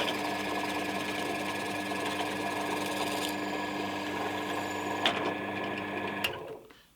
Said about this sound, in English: I'm going to hold that in place and drill.